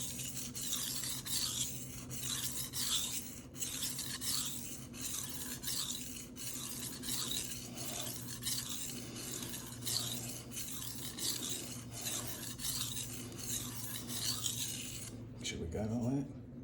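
A knife blade is stroked repeatedly across a Shapton Rockstar 500 whetstone in quick, even, close-up scraping passes, a gritty rasp continuing steadily for about fifteen seconds.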